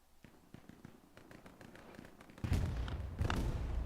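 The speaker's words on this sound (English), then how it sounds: "Artillery comes down, takes out a rep station." Artillery shells land in the Hell Let Loose video game: a run of light thuds and taps leads into two heavy, rumbling blasts that keep the sound loud to the end.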